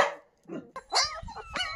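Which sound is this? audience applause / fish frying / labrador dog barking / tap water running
labrador dog barking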